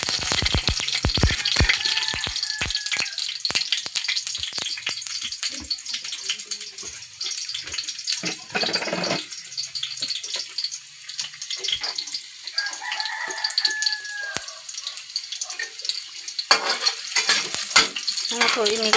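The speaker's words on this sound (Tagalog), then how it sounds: "Sibuyas na og bawang atong lamas guys" Onion and garlic sautéing in a pan for adobo, a loud, close crackling sizzle with dense spitting pops and scraping stirs running throughout, occasionally swelling into bursts of hissing.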